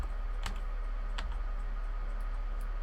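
Several sharp clicks of keys struck on a computer keyboard while numbers are entered, two distinct taps followed by a few fainter ones over a quiet room hiss, with no talking.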